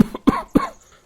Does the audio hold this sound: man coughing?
yes